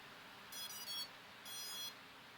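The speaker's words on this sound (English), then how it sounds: "And you'll hear it do the da-da-da, and then one beep, which is letting you know that you're into calibration mode." ESC calibration beeps from an EMAX Babyhawk drone after its battery is connected: two short, quiet electronic tones, each about half a second long, set over a faint background hiss.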